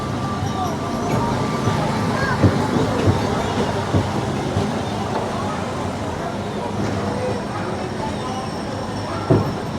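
Disneyland Railroad train rolling steadily, a continuous low rumble with faint rail clatter and a few soft knocks, with voices heard over the ride.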